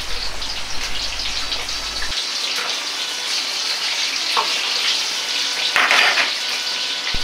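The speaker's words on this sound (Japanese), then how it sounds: "うっすら煙が出てきて高温になったら、ナスを揚げていきます。" Eggplant deep-frying in smoking-hot oil for a Chinese shrimp and eggplant chili sauce dish, a steady loud sizzle and crackle of bubbling oil with no talk.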